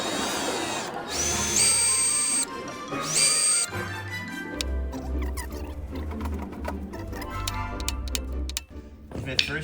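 A drill bit bores into a broken bolt with short bursts of high whining and grinding, broken by pauses, then a lower steady rattle of drilling. People talk intermittently.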